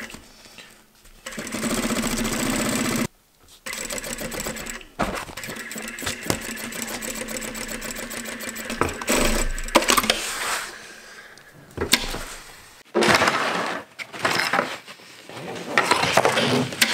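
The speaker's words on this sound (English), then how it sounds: "I just have this webbing and I attach it directly in this seam" A sewing machine stitches webbing into a seam of a laser-cut tactical plate carrier, running in several close bursts of rapid mechanical whirring separated by short pauses.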